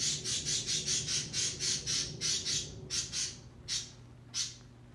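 Birds squawk harshly again and again in a quick, steady run of loud calls, then a few calls with gaps between them, close by with no talking.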